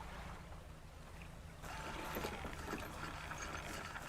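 A small fishing boat fitted with an extra engine in a video game surges forward: steady water rush and motor churn that jumps louder partway through and holds, no voices.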